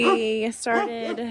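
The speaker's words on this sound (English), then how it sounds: "excuse my dog" A dog yips and whines in short, high, wavering bursts close by, overlapping a person talking on a small farm with piglets.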